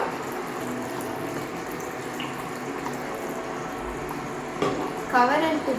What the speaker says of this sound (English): Next, add a little bit of water.